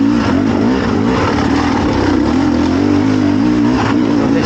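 A Beta dirt bike engine held at high revs in second gear on a forest trail, a loud, steady buzzing drone close up with slight wavering pitch and no talk.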